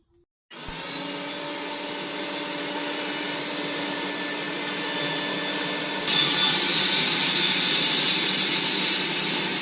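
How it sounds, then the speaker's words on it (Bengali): An electric blender whirs through sugar, oil and milk for a sponge cake batter, starting abruptly with a steady motor whine that steps up to a louder, harsher pitch partway through. "এবার আবারও সব কিছু একসাথে ভালো করে ব্লেন্ড করে নেব"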